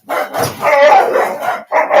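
Several household dogs barking in excited bursts indoors, a continuous run of loud, close yaps for most of the span, then a brief pause and another outburst.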